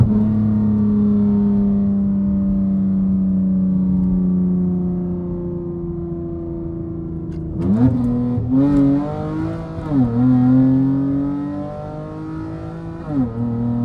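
A Mopar V6 or R/T car accelerating hard in sport (SRT) mode, a steady strong engine drone that breaks into rising revs with quick gear shifts in the second half, loud and close from inside the car.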